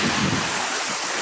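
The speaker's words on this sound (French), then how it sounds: "Ce qui est bien aux Maldives, c'est qu'il y a des vagues" Ocean waves roll and wash ashore at Kuredu in the Maldives, a loud, continuous surf roar mixed with strong wind buffeting the microphone; no one speaks.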